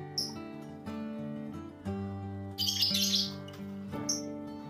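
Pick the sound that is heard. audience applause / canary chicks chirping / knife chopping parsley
canary chicks chirping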